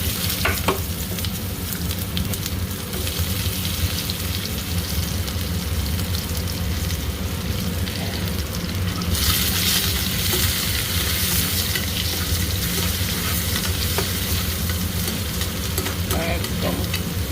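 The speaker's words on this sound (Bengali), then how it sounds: "একদম লাল ভাজবো না, পেঁয়াজে হালকা সাদা থাকবে" Onions and cumin sizzle in hot oil for baingan bharta, a dense, steady frying crackle with occasional stirring scrapes, close and continuous throughout with no talking.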